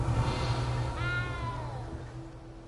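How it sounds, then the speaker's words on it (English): A single drawn-out cat meow in Hogwarts Legacy, clear but moderately quiet over a low game ambience hum. "I hear you, cat."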